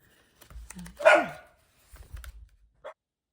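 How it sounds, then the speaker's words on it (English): A dog barks indoors, a few sharp barks and short yips spread across a few seconds with quiet gaps between, moderately close, with no talking over it. "My dog started barking because my boys were coming in."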